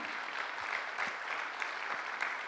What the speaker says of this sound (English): a big round of applause for the whole team that is working behind